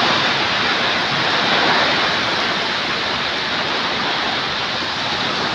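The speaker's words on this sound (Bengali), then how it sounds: "বৃষ্টির সঙ্গে সঙ্গে কিন্তু বইছে হাওয়া।" Heavy rain with gusting wind in a nor'wester storm, a loud, steady broadband roar of downpour and wind noise filling the whole stretch without letup.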